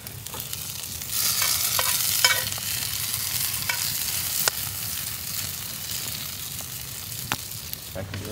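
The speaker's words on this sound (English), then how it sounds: "Listen to that sizzle." Leftover potatoes, peppers and onions fry with a steady, close crackling sizzle in a pan outdoors, with scattered pops and scraping stirs throughout.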